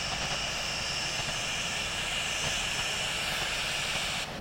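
A Boeing 777-300ER's jet engines roar during takeoff in the flight simulator game Infinite Flight, a steady, loud, broad whooshing drone that holds throughout, with no talking.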